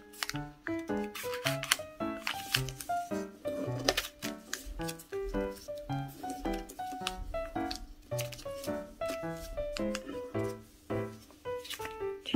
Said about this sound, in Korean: 검지 넣고 오른쪽으로 잡아준 다음 선 따라서 접어주세요